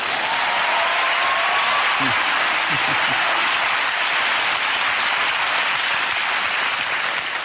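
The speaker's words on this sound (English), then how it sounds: "That applause means something." Studio audience applause on a British talk show, dense sustained clapping that fills the room evenly throughout, with a brief voice faintly underneath.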